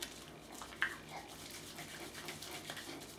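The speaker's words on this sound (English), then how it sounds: "I'll rinse this off with icy cold water." At a sink after a shave, a face is rinsed with icy cold water, giving soft running and splashing water, a brief louder splash near the start, then quiet trickling close by.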